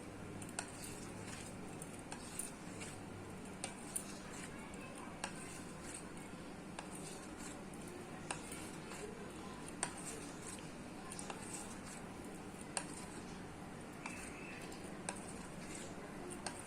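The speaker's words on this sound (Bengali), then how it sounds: "তো আমি আরেকটু এর মধ্যে জল মেশাবো, ভালো করে মিশিয়ে নিচ্ছি।" A utensil stirs a water-thinned vegetable batter in a bowl, giving soft wet squishing and light, irregular clinks against the side, close and quiet with a low background hum.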